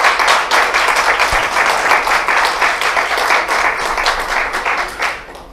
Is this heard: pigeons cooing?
no